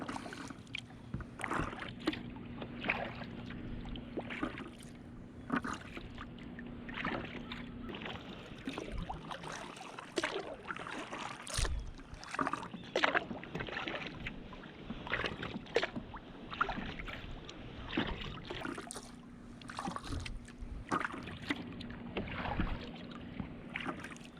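A kayak glides across calm water on a morning camping trip in New Brunswick, its paddle strokes dipping and splashing in a steady, close rhythm with soft trickles between strokes.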